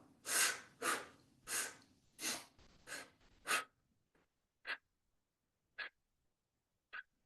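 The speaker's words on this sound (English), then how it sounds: "breathing in and out through the mouth" A person breathing in and out through the mouth during a calm morning movement and breath practice: six strong rhythmic breaths close up, followed by three softer, evenly spaced short breaths in near silence.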